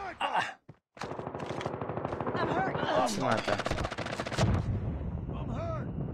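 Rapid bursts of gunfire in Call of Duty Mobile multiplayer, trying a new secondary weapon, a fast steady rattle of shots running almost throughout after a brief gap, with someone talking over it.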